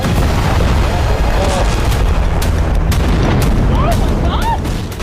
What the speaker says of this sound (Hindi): कई के विस्फोट का वीडियो भी सामने आया है।